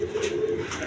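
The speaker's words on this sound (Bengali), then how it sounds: "একদম বিগ সাইজের কবুতর" A large pigeon of the owl breed gives a brief, low, rolling coo, close and clear and with no other voices.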